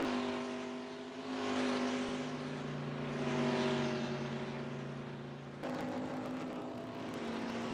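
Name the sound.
race cars finishing, NASCAR Racing 2003 video game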